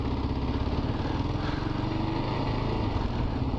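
A Kawasaki KLR adventure motorcycle rides through town in Lebanon, Ohio, its single engine drone steady and continuous, with wind rumble and no talking.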